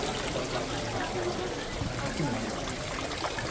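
Mineral spring water trickling near Mt Fuji, a continuous soft gurgle and dribble heard close by under faint background voices.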